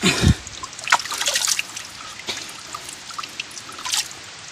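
Water trickles inside a cave in a large Sri Lankan forest, opening with a splash, then intermittent drips and small splatters, close and clear, with no talking.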